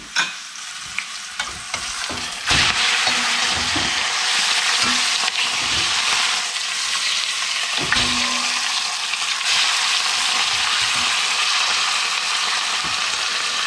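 Lamb shanks sear in hot fat in a pan, giving a steady, loud sizzle and crackle that swells after the first few seconds and continues throughout, with occasional scrapes and stirring knocks.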